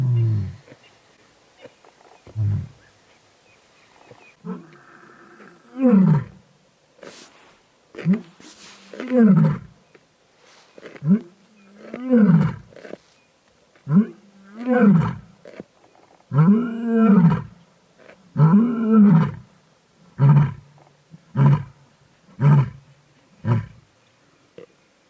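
A female lion of the Korpies pride roars in the Manyeleti reserve, a long series of deep, loud grunting roars building in rhythm and then tapering into shorter huffs, close by with no talk over it.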